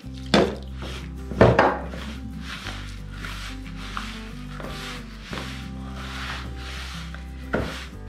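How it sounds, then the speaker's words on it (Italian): Dough being kneaded with milk for Sicilian sfince, with a few soft thumps and slaps and intermittent rubbing and squishing over a steady low hum, close by and without talk. "Cominciamo ad impastare con il nostro latte."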